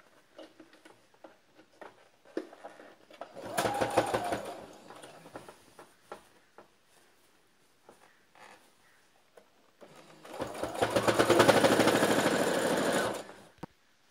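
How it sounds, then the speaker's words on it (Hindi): A sewing machine runs two bursts of finishing stitches on a salwar belt, a rapid mechanical chatter, nearby and alone, with quiet fabric handling and clicks in the pauses between. "ऊपर से एकदम फिनिशिंग की सिलाई दे देंगे।"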